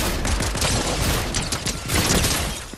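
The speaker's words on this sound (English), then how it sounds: "He gotta shoot at you again." Dense, continuous video game gunfire, loud and close, with rapid overlapping shots forming a steady rattling barrage for a few seconds and a brief surge near the end.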